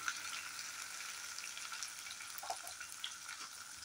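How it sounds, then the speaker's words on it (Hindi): Capsicum, red bell pepper and other vegetables frying for chowmein, a soft steady sizzle with faint stirring clicks, quiet and without talking. "सब्जियों को हम फ्राई कर लेते पहले।"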